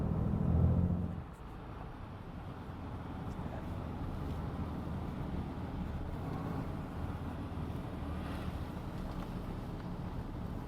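A low, steady engine rumble runs throughout from a 2019 Ram 2500 diesel pickup truck cruising, with a brief louder burst at the start.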